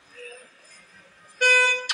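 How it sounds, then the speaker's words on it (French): A car horn gives a loud, close toot in a French street scene, following a stretch of quieter voices. "Pourquoi il klaxonne?"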